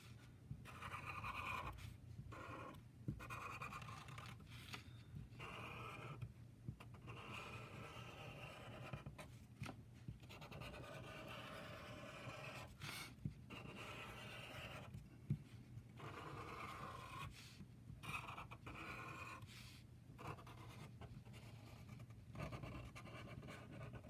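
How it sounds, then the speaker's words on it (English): A Sharpie marker outlines a symbol on paper in a quiet room, giving faint, close scratchy strokes that come in short bursts separated by brief pauses over a low steady hum. "So you can actually just go over on top of the actual symbol with a Sharpie marker."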